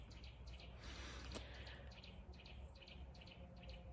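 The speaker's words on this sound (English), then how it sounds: "And I have mosquitoes around me." Mosquitoes whine around a listener in a forest, a faint thin buzz over steady outdoor ambience with insects and a brief sharp tone in the background.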